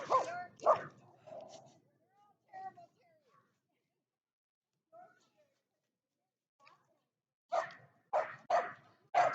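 A dog on a walk in a Toronto park near St. Jamestown gives several sharp barks and yips, close and loud in short clusters at the start and end, with quiet gaps between.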